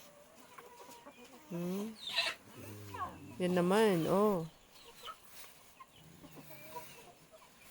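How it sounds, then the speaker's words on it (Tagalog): A farmyard chicken on a mountain home clucks and calls in a few loud, close bursts, interleaved with people talking nearby. "Manok."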